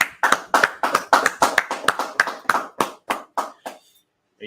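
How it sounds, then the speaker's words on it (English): A small class audience claps together, a dozen or so sharp close hand claps in a loose rhythm that thin out and stop after about four seconds. "let's clap it up"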